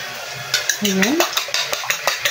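Ampalaya being stirred in a pan, with a run of sharp clinks and scrapes of a utensil against the metal and one brief squeaky scrape near the middle.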